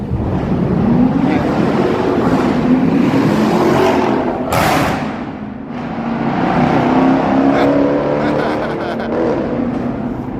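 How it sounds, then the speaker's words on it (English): A modern muscle car on a Chicago street near Navy Pier revs loudly, its engine rising and falling in long sweeping surges, with wind noise and a passing roar close by. "You get those new modern muscle cars, and yeah, you gotta make some noise there."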